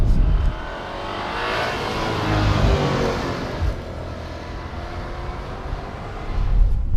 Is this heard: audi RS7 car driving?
yes